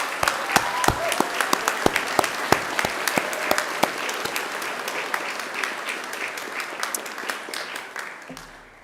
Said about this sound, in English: turn to yourselves and give yourselves one very big round of applause